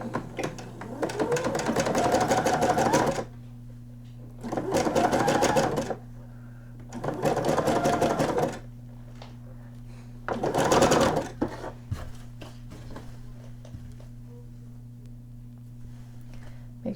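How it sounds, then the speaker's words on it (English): A sewing machine runs a 5/8-inch side seam on a nightgown in four bursts, each a few seconds long with short pauses between, over a steady low mechanical hum. "And then we're going to stitch it 5/8 of an inch."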